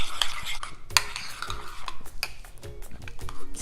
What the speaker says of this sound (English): A really yummy, delicious sauce. So mix it around.